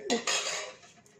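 Dry roasted curry leaves rattling and scraping against a metal pan for about a second, a bright crackly rustle close by that fades out.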